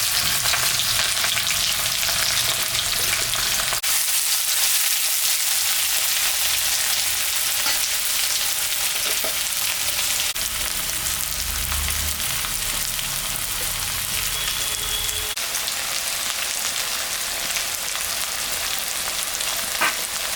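Chopped onion and garlic sizzle in hot oil for mutton curry, a loud, steady, close frying hiss running without a break, with occasional faint stirring clinks and no voices.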